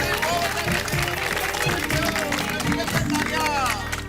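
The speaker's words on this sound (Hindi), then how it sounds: "इसलिए आप सब अपने लिए जोरदार ताली बजाइए।" An indoor audience claps loudly for itself on a sitcom set, a dense, steady wash of hands that runs the full length with busy crowd noise mixed in.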